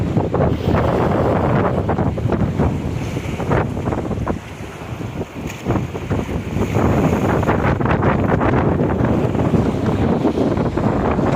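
Strong wind roars steadily across a microphone on a fishing boat out on the Pacific as a storm approaches, with water and waves rushing beneath the loud gusts and no talking.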